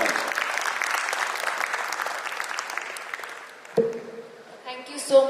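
Conference audience applauding the panelists at an ESG conclave, a steady round of clapping that gradually fades, followed by a few stray claps and brief sounds at the end.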